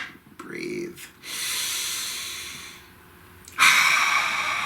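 Deep breathing: a long, slow inhale and exhale through the nose, then a sharp, loud breath near the end, close to the mic and heard on its own.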